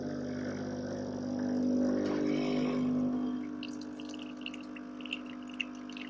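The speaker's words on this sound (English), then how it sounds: "we'll press froth milk as well, so that starts frothing when it's able to" A Ninja Luxe Cafe Premier Series dual boiler espresso machine froths milk, giving a steady loud hum and hiss that swells and then settles, with faint bubbling and drips near the end.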